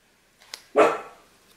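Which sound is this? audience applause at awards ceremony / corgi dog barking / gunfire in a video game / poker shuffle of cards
corgi dog barking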